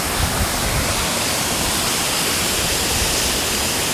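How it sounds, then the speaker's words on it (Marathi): A waterfall at a hidden spot pours down in a loud, steady rush of water, a dense continuous roar that fills the scene with no breaks and no voices. "तर मी तुम्हाला तो असा धबधबा दाखवतो."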